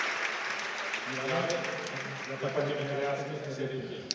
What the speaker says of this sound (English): Let's give everyone a round of applause for having come here in great numbers